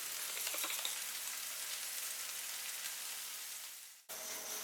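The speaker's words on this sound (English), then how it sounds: "While the onions are sizzling, I cut some tomatoes in half." Chopped onions sizzle steadily in a frying pan, a dense even crackle that runs continuously and close, then cuts off briefly near the end before resuming more quietly.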